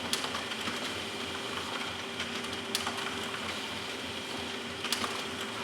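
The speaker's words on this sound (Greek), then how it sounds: "Ο εκτυπωτής μας ακούγεται να λειτουργεί κανονικά και δεν φαίνεται να μπλοκάρει." An HP LaserJet 2055d laser printer runs pages through in a steady, close mechanical whir with faint clicks and a couple of sharper ticks, no talking.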